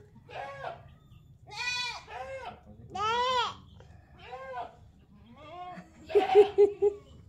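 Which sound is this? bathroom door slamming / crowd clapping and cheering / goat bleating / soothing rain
goat bleating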